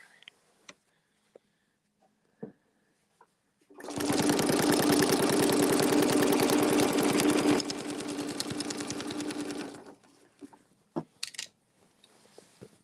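An embroidery sewing machine stitches a sunflower design, a loud steady run of rapid needle strokes lasting about six seconds, dropping slightly in level before stopping, with faint clicks before and after.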